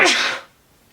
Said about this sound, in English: hang on a second, I'm going to sneeze